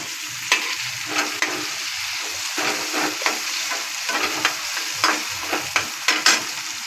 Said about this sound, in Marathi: कांदा थोडासा लाल होऊन द्यायचा. त्यानंतर आपण टॅमॅटो टाकूया.